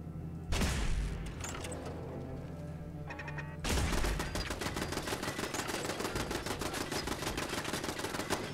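Rapid, sustained automatic gunfire from turrets in Fallout 4, a loud burst at first, then a dense, continuous rattle of shots filling the rest of the clip, with no voices.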